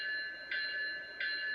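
An ESU LokSound decoder in a Scaletrains Tier 4 GEVO model locomotive sounds its prototypical bell, giving two clear metallic dings spaced evenly apart, fairly quiet against a faint background hum.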